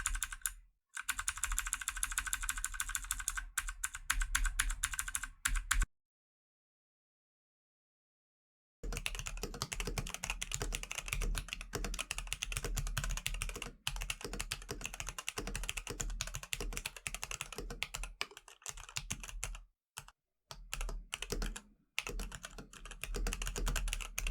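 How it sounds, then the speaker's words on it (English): Dense, steady keystrokes on a Varmilo MA87 Beijing Opera keyboard fitted with Sakura EC V2 clicky switches similar to Cherry MX Blue, a continuous run of sharp clacks broken by one silent pause of about three seconds, with no talking. "They say it's a tactile switch, but I think it's more so of a clicky switch, and it's most similar to the Cherry MX Blue."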